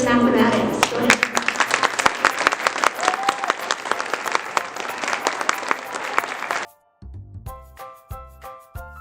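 Sustained applause from an audience honoring students at a school awards ceremony, dense steady clapping that carries on for several seconds before stopping abruptly, followed by a brief musical tone.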